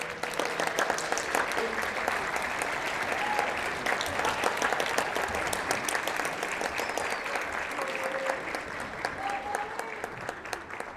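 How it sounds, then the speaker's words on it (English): An audience at a Region 29 6A band concert applauds the parents, giving a long, even round of clapping that carries on steadily throughout. "please stand so we can applaud for you"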